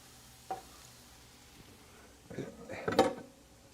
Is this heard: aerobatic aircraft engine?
no